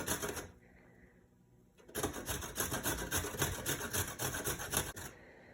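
A carrot is rubbed against a kitchen grater in rapid rhythmic rasping strokes, close and fairly loud, after a quieter opening.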